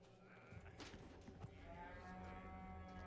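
A cow moos in the Resident Evil 4 Remake video game, a low drawn-out bellow over a steady ambient game backdrop, fairly faint and distant, with no talk.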